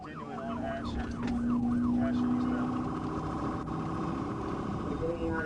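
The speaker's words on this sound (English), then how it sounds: "He immediately activated his emergency lights and sirens and began pursuing the driver" A police car siren wails loudly during a pursuit, its pitch rising and falling at a fast yelp before settling into a steadier tone, over road and engine noise with voices talking over it.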